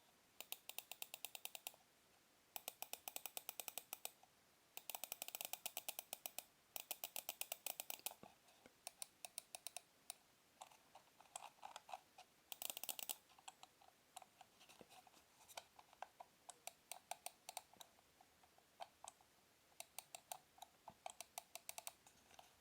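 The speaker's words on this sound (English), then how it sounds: "mouse wheel click downwards and then right and left mouse buttons right there" A Perixx PERIDUO-211 wired mouse gives bursts of rapid, finely notched scroll wheel ticks and sharp plastic clicks from the wheel and the left and right buttons, close up and crisp against near silence.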